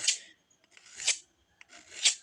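Blunt scissors blades being sharpened with a file, giving three rasping strokes in a steady back-and-forth rhythm, close and fairly loud, with brief quiet gaps and a small tap between them.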